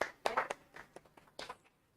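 A few scattered handclaps for a student named Kaustubh in a classroom, brief and fairly faint, tapering off after about a second and a half.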